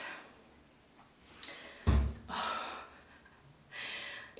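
A pregnant woman out of breath gives a few heavy, audible breaths and gasps close to the microphone, spaced irregularly over a quiet background.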